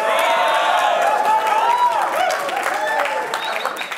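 An audience at a team-building talk claps together in a group exercise, making dense, loud applause with mixed voices that fades slightly toward the end.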